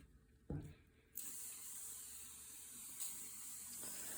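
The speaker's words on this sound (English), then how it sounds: "I've always used the good old starch. So I give it a spray." A steady hissing spray of starch from a spray bottle onto quilt fabric, sustained for a few seconds after a short click, close and fairly quiet.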